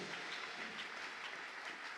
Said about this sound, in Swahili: Si tu peux acclamer, acclame Jésus.